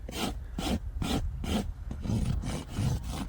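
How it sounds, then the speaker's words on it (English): A farrier's rasp files a horse's hoof close up in slow, regular back-and-forth strokes, each a dry scraping rasp separated by brief pauses, with no talk. "And I just rasp it in a little bit so I don't have to burn as much."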